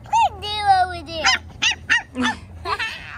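A six-week-old puppy from a litter gives a long, rising-and-falling whine, then a run of short, sharp yips and barks close by, five or six in an uneven rhythm.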